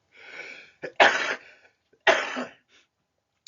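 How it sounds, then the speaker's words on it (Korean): A few sharp coughs in quick succession, close and loud, separated by brief pauses with a softer throaty sound at the start. "아주 확실히 기침이 안 나갔네요"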